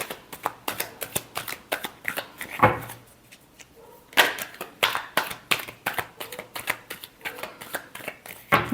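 Tarot cards being shuffled by hand in quick, close crisp riffling bursts, with a brief pause midway before the rapid flicking resumes.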